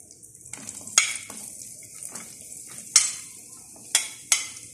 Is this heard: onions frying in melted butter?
yes